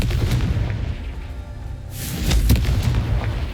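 A Confringo blasting spell goes off in the game Hogwarts Legacy with heavy, booming explosive thuds, a dense low rumble that swells into a louder, brighter blast near the end.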